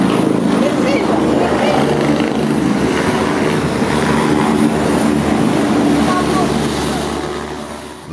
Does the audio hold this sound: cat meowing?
no